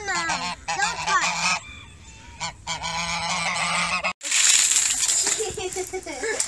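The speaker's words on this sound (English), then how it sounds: "Are you afraid of the goose?" Geese honk loudly and repeatedly at close range, harsh nasal calls in several bursts with a brief gap, over outdoor background noise; a person speaks faintly at times.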